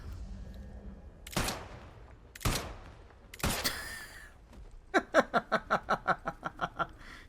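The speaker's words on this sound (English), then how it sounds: "This pistol's insane." A pistol fires in the video game Atomfall: three spaced single shots ring out loud and close, then a rapid burst of about a dozen sharp reports follows in quick rhythm.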